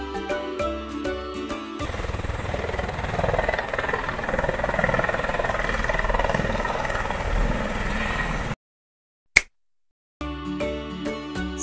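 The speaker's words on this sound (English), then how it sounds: "Helicopter. This is helicopter." A helicopter drones steadily for several seconds, a rough rotor chop with engine whine, framed by short bursts of music before and after.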